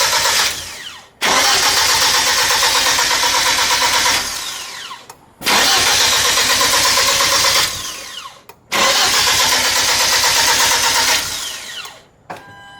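A built Hyundai Genesis Coupe engine fires up for the first time after installation, roaring loudly in three long bursts of running separated by brief, abrupt cut-offs.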